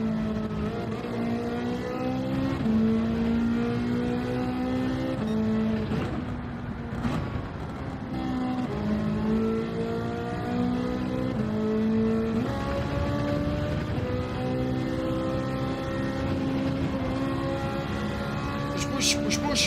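Ferrari race car engine in Gran Turismo 7, revving steadily with rising pitch sweeps as it shifts through gears and accelerates, continuous and close, with a voice talking over it.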